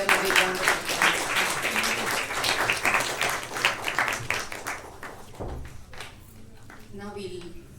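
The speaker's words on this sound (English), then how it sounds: "Let's give them a big round of applause." Audience applause following a Carnatic music student performance, a dense wash of clapping that fills the room and thins out toward the end, with a voice speaking faintly beneath it.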